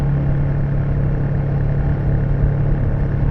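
A Royal Enfield Shotgun 650 motorcycle engine runs at a steady low pitch, a close, even drone with a slight uneven throb and no voices.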